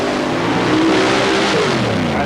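Chevy 550 cubic inch paddle-tire mud racing vehicle at a 1990 event in Bayou George, Florida, its engine roaring loud and steady with a rising, revving pitch as it powers down the run.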